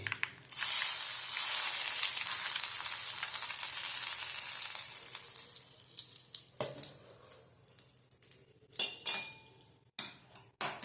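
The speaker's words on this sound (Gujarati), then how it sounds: "આપણે તડકા લગાવી દીધા છે" Tadka of curry leaves and red chilli hits hot oil for a bottle gourd peel chutney, giving a loud, steady crackling sizzle that fades over several seconds into sparse pops and a few clinks of utensils.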